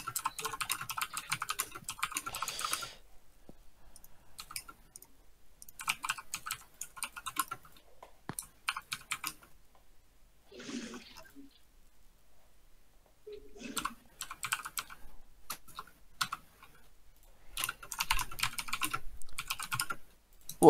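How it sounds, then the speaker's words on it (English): Someone types on a computer keyboard in short, scattered bursts of quick clicking separated by quiet pauses, with the keystrokes fairly soft and close throughout. "he's definitely typing"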